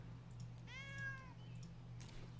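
A single drawn-out house cat meow rising and falling, fairly close and clear, heard alone over a steady low electrical hum with no talk.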